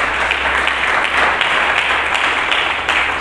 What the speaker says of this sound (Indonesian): Mari kita berikan tepuk tangan bagi Yesus Kristus Tuhan.